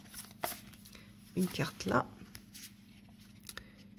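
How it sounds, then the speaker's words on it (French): Oracle cards are shuffled and drawn in a quiet room, giving soft papery riffles and brief slides. The sounds come in a few faint bursts around the middle of the stretch. "j'ai pas très bien mélangé, donc on va prendre une carte là"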